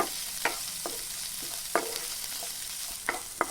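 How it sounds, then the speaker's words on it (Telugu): Garlic pieces and cumin frying in oil in a pan, a steady soft sizzle broken by a few sharp scrapes and taps of a spoon as they are stirred, close and quiet with no speech. "ఈ వెల్లుల్లిపాయ పచ్చివాసన పోయేదాకా దోరగా వేయించుకోవాలి."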